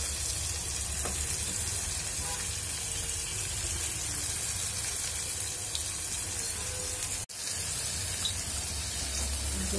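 Potatoes fry in a pan as tomato goes in, making a loud, constant hissing sizzle that cuts out for a split second near the end and then resumes. No voices are heard.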